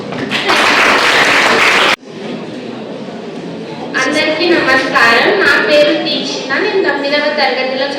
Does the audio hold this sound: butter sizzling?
no